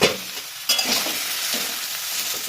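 A spoon stirs cauliflower and potato curry in a pan, scraping and sizzling in several short strokes, close and moderately loud, with a sharper burst partway through.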